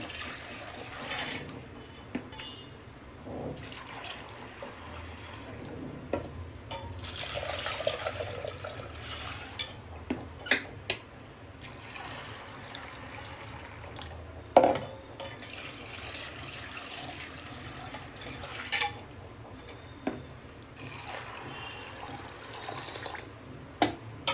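Water swishes and sloshes in a container over a long stretch, with intermittent clatters and knocks as soaked black-eyed peas are rinsed of stones and drained.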